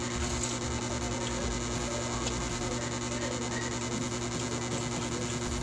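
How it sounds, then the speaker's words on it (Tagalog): An electric pan cooks pork ampalaya and salmon fillet, giving off a steady, even sizzling hiss with a low electrical hum underneath, constant and close throughout. "Itong electric pan na gumagana."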